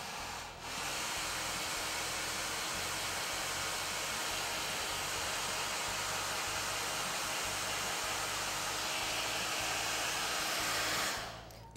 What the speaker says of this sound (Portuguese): aí um pouquinho de secador, vou afastar um pouquinho para não fazer muito barulho